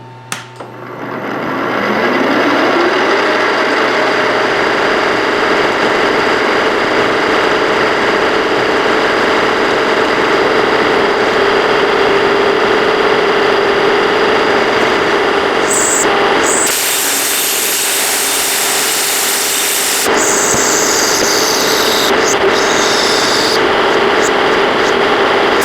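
A milling machine cuts a slot in the handguard of a Dragonslayer sword replica, giving a steady, loud, continuous mechanical whir that turns harsher and hissier for a few seconds midway.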